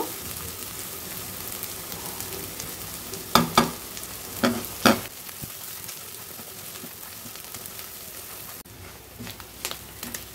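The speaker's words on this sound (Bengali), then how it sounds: "মশলাটা আমার ভালো করে কষানো হয়ে গেছে" Coconut and shrimp masala with turmeric frying in a pan, a constant hiss of sizzling with a few sharp scrapes or clinks near the middle, moderately close and without speech.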